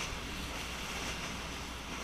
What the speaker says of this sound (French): il y a un peu de vent là qui vient de ce côté-là